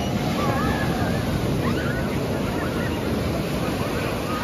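Sea waves wash steadily onto Baga Beach in Goa, a close and constant surf mixed with wind noise, with faint voices in the background.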